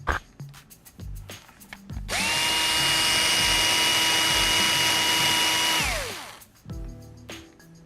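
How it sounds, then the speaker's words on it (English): A small power driver whirs steadily for a few seconds, pulling screws from the front differential of an RC car, with a rising and falling pitch and light clicks and handling noises before and after, close up and alone. "I'm just going to go ahead and pull these other 2 screws out so I can have it fully separated"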